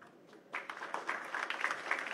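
An audience at a formal state ceremony applauds the President of the Republic. The applause is a faint, distant crowd clapping that swells after a quiet start and then holds as a steady patter.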